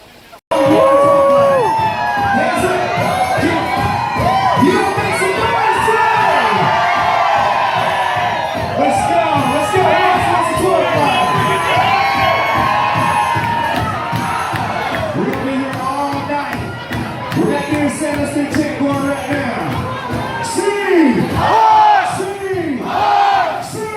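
Large crowd at a Seattle Seahawks fan event in London, sustained loud cheering, whooping and shouting voices close and continuous throughout, with a dip before surging again.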